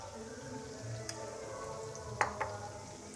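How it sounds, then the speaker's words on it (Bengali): Boondi fritters for motichur laddu fry in oil over a high gas flame, a low steady sizzle with two brief metallic utensil clinks near the end, no talking. "বড়াগুলো ভাজার সময় আমি গ্যাসের ফ্লেমটাকে জোরে করে দিচ্ছি"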